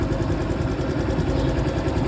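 A small 110cc single-cylinder, two-valve Honda Wave 110i motorcycle engine idles steadily, a low, even putter running throughout with no voices.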